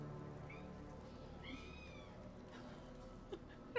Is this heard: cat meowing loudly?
yes